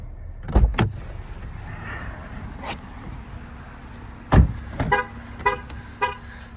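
A 2024 Jeep Wrangler Willys sounds a key-fob-left-behind warning: a few short horn-like chirps after a door thud, fairly close, with quiet handling noises in between.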